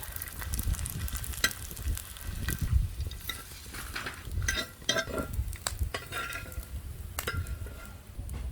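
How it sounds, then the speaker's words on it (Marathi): Edible gum (dink) fried in ghee in a pan makes a soft crackling sizzle under repeated scraping and stirring strokes, with occasional clinks of the spoon against the pan. "असा सगळा डिंक तळून घ्यायचा"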